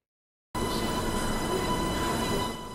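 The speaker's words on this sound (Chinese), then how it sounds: "红白相间车身缓缓开进月台，这是北京第一条自行研发的磁浮列车线 S1 线" A red-and-white Beijing S1 line medium-low-speed maglev train glides into a station platform, a steady, smooth broadband hum that starts suddenly and holds evenly, with a faint tonal whine and no wheel clatter.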